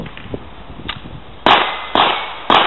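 Three sharp handgun shots at a steady pace during a shooting drill with magazine changes and double taps, loud and close, each followed by a brief decay, with quieter clicks and handling noises before them.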